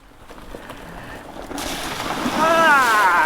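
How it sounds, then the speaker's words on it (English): Mountain bike splashing through a shallow creek crossing on a 50-mile endurance ride, a rising rush and slosh of water building toward the end, with someone talking over it. "Nothing like a little creek crossing."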